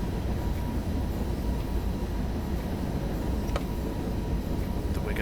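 A DB BR101 electric locomotive hauling a train in Train Sim World 2, a loud steady rolling rumble with constant wheel and track noise and a couple of brief higher squeals near the end.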